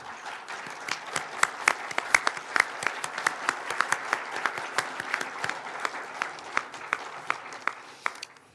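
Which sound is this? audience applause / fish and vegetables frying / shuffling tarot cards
audience applause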